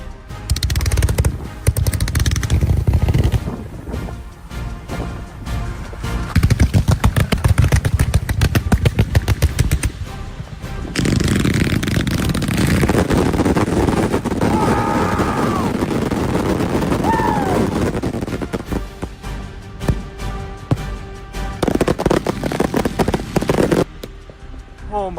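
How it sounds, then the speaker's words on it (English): Fireworks crackle and bang in dense, rapid bursts for a long stretch, a firework mouse among them, loud and close outdoors. Excited voices can be heard in between. "It's a firework mouse."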